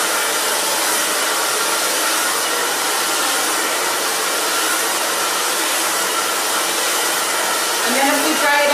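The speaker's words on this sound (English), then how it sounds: "just take this next section and dry this out" Hair dryer blowing steadily on a section of hair during a salon styling, a loud continuous broadband whoosh with no break, a brief voice creeping in at the very end.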